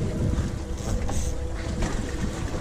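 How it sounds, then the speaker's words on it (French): Boat motor running on a spearfishing and fishing trip at sea, a steady rumbling drone mixed with wind buffeting the microphone and splashing water, close and fairly loud. "Juste fais gaffe à l'hélice que le moteur tourne."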